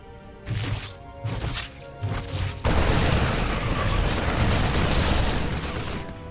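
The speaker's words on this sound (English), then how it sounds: "They're shooting everything that moves." Marines opening fire in StarCraft 2: a few short separated bursts at first, then a loud continuous roar of massed rifle fire that holds steady to the end.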